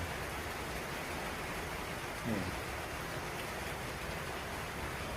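Heavy rain pouring steadily, a dense continuous hiss filling the whole stretch at even loudness, with one brief faint thump partway through and no talk.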